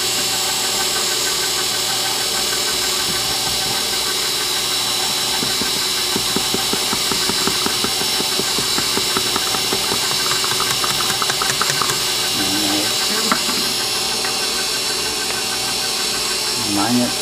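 An electric stand mixer runs steadily on low while flour goes into cookie dough, a continuous mid-pitched motor whir with faint rhythmic rattling, close and loud throughout.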